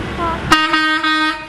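A passing car sounds its horn on a street: one loud, sustained tonal honk that starts abruptly and holds for about a second, with faint background noise before it.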